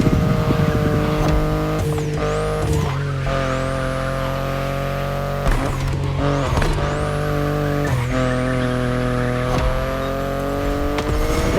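A BMW i8 driven in The Crew Motorfest, its engine droning steadily at high revs with rising whines on gear shifts and brief tire squeals, close and continuous with no talking.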